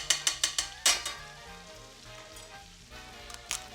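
Garlic sizzles in hot fat in a pan, a quiet continuous crackle opened by a few sharp clacks, set against background music with no talking.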